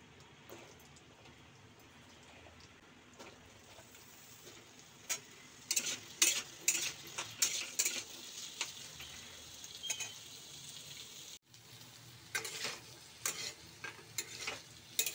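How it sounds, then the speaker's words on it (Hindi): Potato pieces fry in hot oil, giving a soft continuous sizzle with clearer crackling and light stirring clicks in irregular bursts, fairly quiet and close, with no talk. "तेल ताती गला, मु एथरे आलू गुडा पकई दोची भाजीबा पई कि।"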